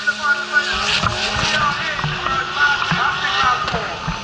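A car drifts at the Tunerfest 2024 car event, tyres skidding and squealing in long wavering screeches over engine roar, with voices and crowd noise mixed in.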